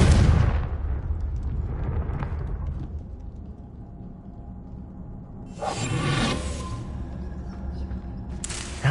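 The Confringo blasting curse from Hogwarts Legacy: loud explosive bursts with a whooshing onset, one at the start and another around the middle, each fading into a rumbling tail, with a sharp hit at the end.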